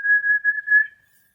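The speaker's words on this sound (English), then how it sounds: "I'm just whistling for the birds that I've got." A single person whistles a steady, slightly wavering tone for under a second, close and clear, then it fades to silence.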